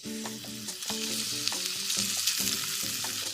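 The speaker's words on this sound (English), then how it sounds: "First, stir fry the raw ingredients and sesame oil." Raw ingredients stir-fried in sesame oil in a pan, a constant bright sizzle broken by rhythmic knocks of a utensil against the pan roughly twice a second, close and without talking.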